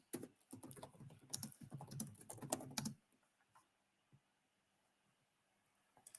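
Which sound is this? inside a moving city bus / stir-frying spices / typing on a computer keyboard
typing on a computer keyboard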